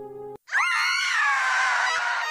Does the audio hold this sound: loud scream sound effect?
yes